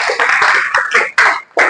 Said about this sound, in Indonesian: Kita berikan tepuk tangan dong